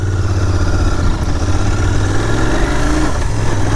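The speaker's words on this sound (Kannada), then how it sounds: "ಲೌಡ್ ಆಗಿದೆ ವಾಯ್ಸ್, ಐ ಮೀನ್ ಎಕ್ಸಾಸ್ಟ್." Royal Enfield 650 motorcycle, a Super Meteor or GT 650 with under 200 km on it, running with a loud, steady, low exhaust burble close by, no talk, with engine note holding constant throughout.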